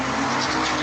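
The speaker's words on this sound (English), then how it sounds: "He turns around at the sound of a screeching car speeding right into him." A car screeches and speeds toward a man picking up his mail, heard as a loud, dense roar of engine and tire noise filling the whole short moment.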